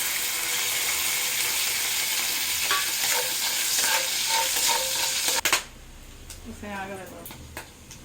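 Chopped garlic sizzles loudly in hot oil as it is stir-fried in a pan for street-style egg fried rice, with rhythmic stirring scrapes; the frying cuts off abruptly, then a voice speaks over quieter background.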